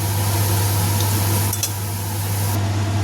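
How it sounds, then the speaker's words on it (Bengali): Potatoes frying in a pan for a bhindi aloo dish, a steady, unbroken sizzle close to the ear over a constant low hum, with one brief clatter midway and no talk. "এখানে কিন্তু আমি আলুটা চাপিয়ে দিয়েছি ফ্রাই করার জন্যে।"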